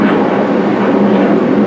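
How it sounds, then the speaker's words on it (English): A jet aircraft passing overhead outside a boatyard where a fiberglass hull is being worked on, a loud, steady broadband roar that fills the whole stretch without letting up and with no speech. "Waiting for the jet to go by."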